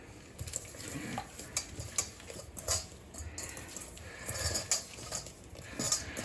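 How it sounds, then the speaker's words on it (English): Potatoes tossed in oil and seasoning, soft irregular clicks and rustling shakes against a bowl repeating in quick bursts, fairly faint and close, with no one talking. "they go in the oil, in the seasoning"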